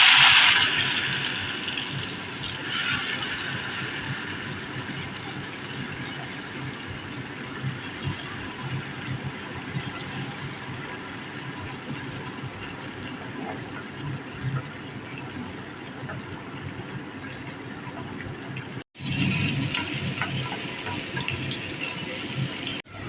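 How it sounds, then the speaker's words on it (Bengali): Bitter gourd rubbed with salt and turmeric fries in oil, making a steady close broadband sizzle that continues almost without a break and briefly drops out near the end, with no voices. "করলা ভাজতে একটু সময় লাগে।"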